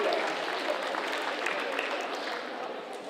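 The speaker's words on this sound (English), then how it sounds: "So give her a round of applause because she's not here." Steady applause from an audience at an 8th grade awards ceremony, a dense continuous wash of clapping that holds evenly for about three seconds before easing slightly.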